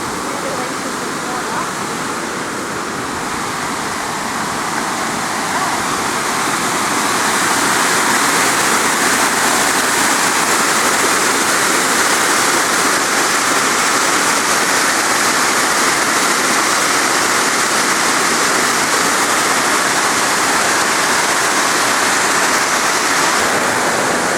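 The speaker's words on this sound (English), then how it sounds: "Main weir on the Menindee Lakes. This is the weir building. They're releasing water." Water released through the main weir at Menindee Lakes, near the weir building, roars as a steady, loud broadband rush that swells slightly after the first few seconds and holds unbroken, with no talk over it.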